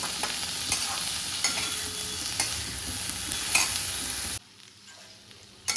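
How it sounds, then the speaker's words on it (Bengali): Spices frying in a pan are stirred in a steady, close sizzle. Regular scraping strokes cut through the hiss until the sound drops away abruptly near the end, and no voices are heard. "এবারে একসাথে ভালো করে ভেজে নেব"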